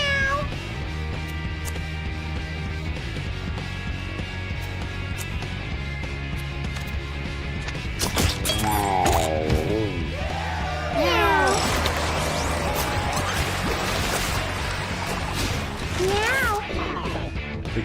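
Cats meowing in the video game Reverse 1999, several rising and falling mews that cluster in the second half, layered over steady game music with a few sharp knocks.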